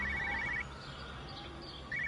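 A telephone in the video game Everybody's Gone to the Rapture rings with a bright electronic trill, two short bursts separated by a pause, heard alone over a low ambient hum.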